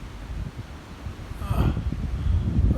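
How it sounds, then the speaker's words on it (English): Wind gusts blow outdoors near a barn and trees, a broad rushing roar that swells louder in the second half, with faint rustling and microphone buffeting. "Wind sure blowing in from down there."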